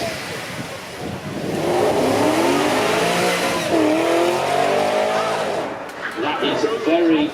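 A Porsche Panamera GTS with a 4.8-litre V8 accelerates hard on a supercar weekend run course, its engine note rising and sweeping through gears, loud and close, with faint crowd voices beneath.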